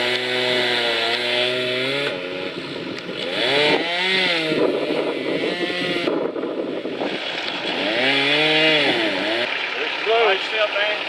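A chainsaw cutting a tree revs up and bogs down repeatedly as it cuts into wood, loud and close, with brief pauses between bursts.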